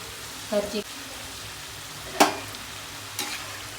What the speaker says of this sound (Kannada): ನೋಡಿ ಬಿಸಿ ಬಿಸಿಯಾಗಿ ಬೇಯ್ತಾ ಇದೆ